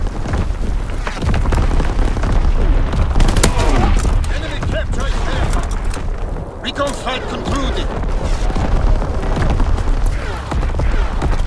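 Artillery barrage in Call of Duty: WWII, a dense, loud, continuous wash of booming explosions and rattling gunfire, with radio-style voices speaking over the bombardment.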